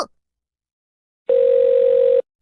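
A telephone receiver plays a steady single-pitch dial tone for about a second before dialling the 119 emergency number, loud and alone after a brief silence.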